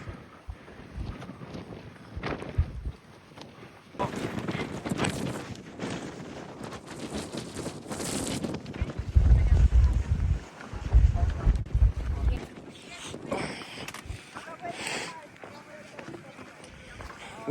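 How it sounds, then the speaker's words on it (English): Gusts of wind buffet the microphone in rough, rumbling bursts, strongest midway, with faint voices and movement outdoors while hiking on Mount Kosciuszko, Australia. "Windy, eh, mate?"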